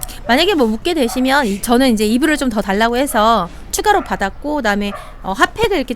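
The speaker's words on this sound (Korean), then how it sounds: "저희 개가 자꾸 짖는데요" A dog barks in brief bursts beneath continuous close male speech in Korean, indoors at accommodation in Göreme, Cappadocia, during winter.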